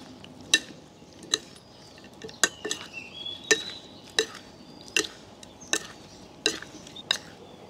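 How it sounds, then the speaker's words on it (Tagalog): Pomelo salad being stirred in a bowl, with crisp, regular clinks of a spoon tapping the bowl roughly every second over soft, wet mixing, close and clear with no voices. "Maglalagay na tayo ng ating suha. Haluin natin."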